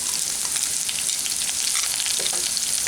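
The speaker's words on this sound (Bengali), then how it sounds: "খুব বেশি ভাজবো না, হালকা করে ভেজে নেব।" Chopped green chillies lightly frying in a pan for Bengali musur dal posto, a dense close sizzle with occasional stirring scrapes, steady and free of speech.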